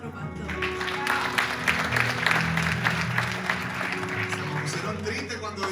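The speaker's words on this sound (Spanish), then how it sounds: "Vamos a darle un fuerte aplauso a nuestro pastor." A church congregation applauds its pastor with sustained, dense clapping that carries on for several seconds over a low hum of voices and background sound.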